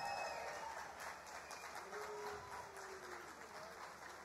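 Festival crowd at Super Bock Super Rock 2017 applauding for Kátia Sá, a faint, distant wash of clapping and crowd noise that holds steady throughout.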